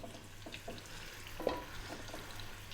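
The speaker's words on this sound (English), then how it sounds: "we're just going to fry this around for 5 minutes by itself" Beef bones frying in a pan for Ethiopian kikel soup give a quiet, steady sizzle with a few soft stirring knocks and one small sharp tick, close up with no talking.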